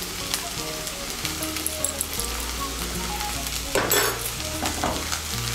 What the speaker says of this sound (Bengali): চিড়েটাকে ভালো করে সবজির সঙ্গে মিশিয়ে নেব